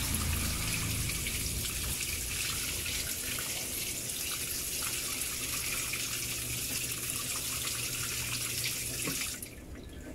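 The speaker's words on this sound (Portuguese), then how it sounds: "Vai recircular a água." A washing machine washing a duvet recirculates water, giving a steady, loud gushing rush like a running tap, continuous for several seconds and then easing off at the end, with no talk.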